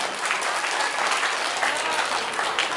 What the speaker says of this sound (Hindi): मैं अपनी बात रखूं तो एक बार जोरदार ताली बजाओ